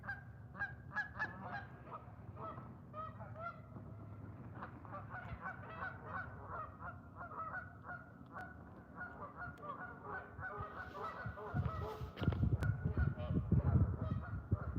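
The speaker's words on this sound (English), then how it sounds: "They're very noisy." Geese honk repeatedly in a noisy flock at a lake, calls overlapping continuously, and near the end a louder rustling, thumping burst rises beneath them.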